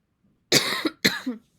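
Two sharp coughs in quick succession, close and fairly loud, against near silence.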